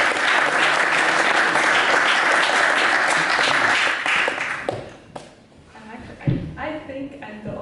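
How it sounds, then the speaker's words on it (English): Audience applause at a tech conference talk, loud sustained clapping from a crowd for about five seconds that fades out, followed by a speaker starting to talk. "Give a round of applause to Gabriela,"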